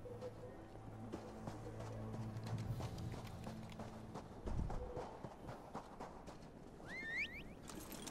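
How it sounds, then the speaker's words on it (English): Horses gallop in The Elder Scrolls Online, their steady clip-clop hoofbeats running through layered game music and effects, with no talk over them. "Get on your horses."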